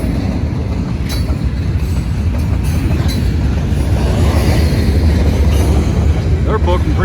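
A long freight train rolls across a bridge close by, a loud continuous rumble with clattering wheels and occasional metallic squeals throughout.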